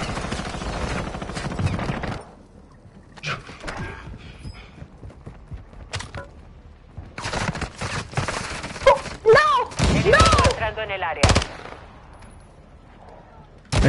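Gunfire in the video game Warzone 2 comes as bursts of sharp, loud shots and rapid volleys, scattered through the clip with pauses, alongside other game sounds.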